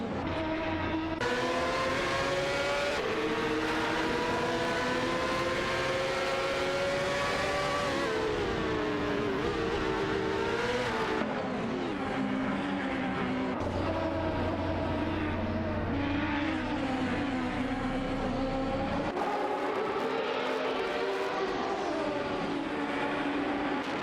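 Race cars in an AI racing video game roar past one another, engine pitches rising and falling as they overtake, a loud continuous blend of several motors.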